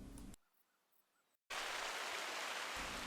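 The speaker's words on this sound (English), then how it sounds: "it started raining cats and dogs" Heavy rain falls in the hunting game theHunter: Call of the Wild, a steady loud hiss that begins abruptly after a brief near-silence and carries on without pause.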